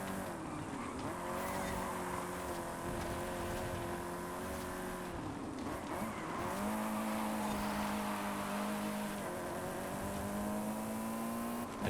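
In Forza Horizon 5, a car fitted with rally tyres drives hard, its engine holding a sustained tone that drops and climbs with each gear shift, with some tyre scrub and skidding throughout and no talking.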